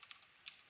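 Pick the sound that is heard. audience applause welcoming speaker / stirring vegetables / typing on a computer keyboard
typing on a computer keyboard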